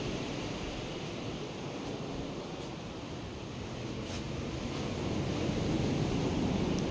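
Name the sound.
ocean waves on the shore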